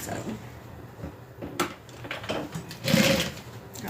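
Sewing machine stitching through thick backpack fabric at the shoulder strap connectors, running slowly in short uneven bursts with mechanical clatter, louder toward the end, no talk.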